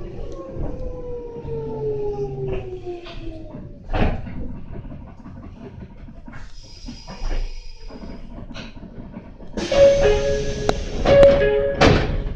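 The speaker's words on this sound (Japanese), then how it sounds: "左側開きますドアにご注意ください。" A Meitetsu 6000 series train on the Nagoya Main Line hums as its motor winds down, gives a heavy thud, and then opens its left-side doors with a rushing slide and a repeated electronic tone.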